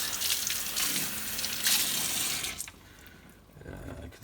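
Water from a tap rinses a Hoover Junior Dirtsearcher vacuum lens cover, a close, steady rushing splash that shifts in tone as the part is moved under the stream, then settles into a softer trickle.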